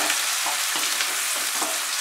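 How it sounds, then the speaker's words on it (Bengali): Chopped onions fry in hot oil over medium heat, giving a steady, close broadband sizzle with a few soft stirring scrapes and no voices. "মাঝারি আঁচে পেঁয়াজটাকে ফ্রাই করব।"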